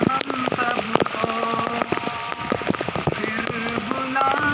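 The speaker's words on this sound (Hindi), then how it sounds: "बारिश भी बहुत तेज़ बारिश हो रही है।" Heavy rain pours down in Karachi, a dense steady hiss with sharp spattering drops and drips hitting nearby surfaces, continuous and close with no talk.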